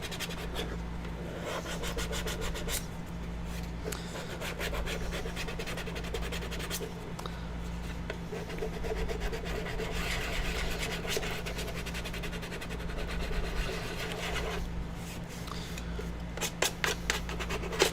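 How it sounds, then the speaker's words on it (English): Steady rasping strokes of fine sandpaper rubbing a sculpted skull, close up and continuous, over a constant low electrical hum. "go back in with some finer sanding"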